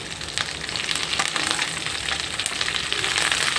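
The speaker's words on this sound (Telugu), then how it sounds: "బాగా వేయించుకోవాలి" Curry leaves fry in oil for a pickle, a continuous close crackling sizzle with small sputtering pops and occasional light stirring, steady in loudness throughout.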